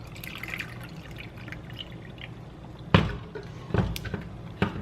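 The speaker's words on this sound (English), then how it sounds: "I'm going to take my iced coffee right here and pour it" Iced coffee is poured into a cup, a soft trickling stream with a few sharper splashes and ice clinks toward the end, close and moderately loud.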